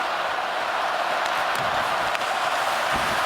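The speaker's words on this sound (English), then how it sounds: "Crowd buzzing now." A hockey arena crowd at a Montreal Canadiens versus Florida Panthers game in Florida keeps up a steady loud buzz of murmuring and excited voices, with no single cheer standing out.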